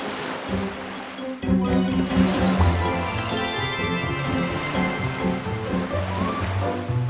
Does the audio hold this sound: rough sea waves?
yes